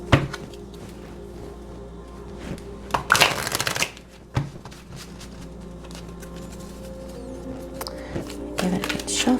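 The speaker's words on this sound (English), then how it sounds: "Give it a good shuffle." A tarot deck being shuffled close up, a few crisp riffling bursts with soft rustles and taps in between against faint room noise.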